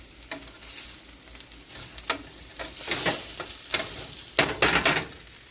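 Pieces of zucchini sizzle on a hot pan, making a steady crackling fry. Bursts of sharper spitting and scraping come as they are placed and moved, close and clear with no talking.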